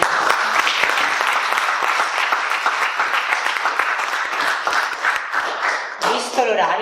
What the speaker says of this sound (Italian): Maria Vita da Lumaca, fategli un applauso.